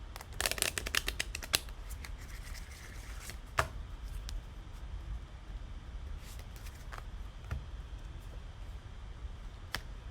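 A deck of oracle cards being shuffled by hand before a card is drawn, giving a soft, steady riffling rustle with a few sharper card snaps near the start, close and fairly quiet, with no talking.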